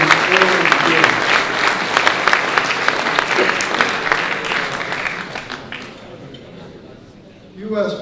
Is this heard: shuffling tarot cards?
no